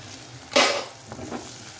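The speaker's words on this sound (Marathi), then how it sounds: "हिंग टाकतोय आपण." Asafoetida dropped into hot oil for a tempering flares into one sharp, brief burst of sizzling that quickly fades to a soft crackle.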